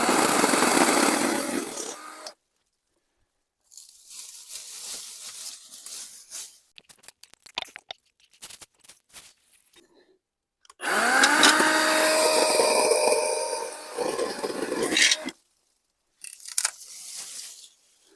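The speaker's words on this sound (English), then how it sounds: "The Litheli battery powered cordless and brushless, very light chainsaw." Litheli cordless brushless battery chainsaw cutting a large holly tree, its electric whine surging in two long, loud bursts separated by short stops, quieter cutting, clattering and snapping of branches, and a final brief burst, heard up close.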